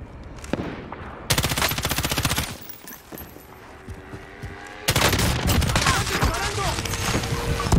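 Automatic weapon fire in Call of Duty Warzone, loud rapid bursts of shots in two long volleys separated by a quieter gap with scattered single reports.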